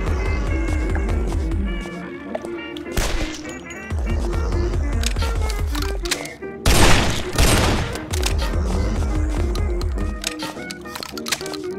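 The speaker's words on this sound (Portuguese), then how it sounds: "Ela dá dois tiros simultâneos." Bursts of rapid gunfire from a weapon in the video game Guns, Gore and Cannoli, one that fires two shots at once, several volleys with one loud blast in the middle, over a thumping background.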